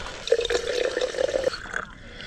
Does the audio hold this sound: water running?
yes